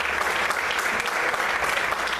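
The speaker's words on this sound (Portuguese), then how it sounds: "Vamos aplaudir o Senhor." A church congregation clapping together during a worship service, a brief, dense burst of steady applause throughout, fairly loud and with no voices on top.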